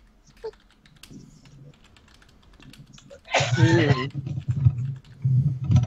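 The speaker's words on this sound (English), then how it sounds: "I just heard keyboard typing." Rapid clicking of computer keyboard typing runs throughout, steady and close, while someone speaks briefly over the keystrokes partway through.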